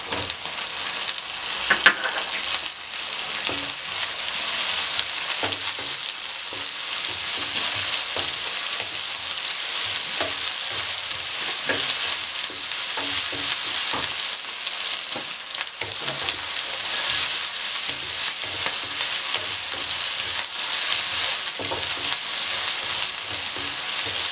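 Tomatoes frying in a pan for a chickpea pulao produce a dense, steady, loud sizzle lasting throughout, with faint stirring taps underneath and no voices.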